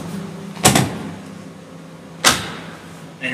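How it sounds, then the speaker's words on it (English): A Chrysler Town & Country Stow 'n Go seat latches into place with two sharp, close mechanical clunks about a second and a half apart, over a low steady hum. "Make sure the seat latches in place."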